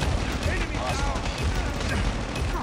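The POW-57 fires in Call of Duty Mobile, producing a dense, continuous stream of close gunfire that stays loud for the whole stretch.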